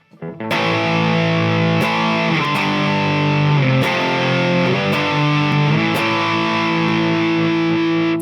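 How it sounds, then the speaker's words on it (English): A loud, sustained distorted electric guitar power chord rings out, restruck several times with a thick, buzzing tone and no talking. "A power chord on an electric guitar with distortion is literally what makes rock, sound like rock."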